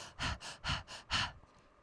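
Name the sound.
panting breaths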